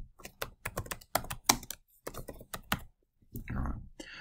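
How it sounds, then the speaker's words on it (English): Someone types text into SOLIDWORKS on a computer keyboard, producing close, crisp key clicks in quick irregular bursts with short pauses, followed by a softer rustle near the end; a voice is faintly present in the background. "So I'll now click on text and I'll type the text that I would like to appear there."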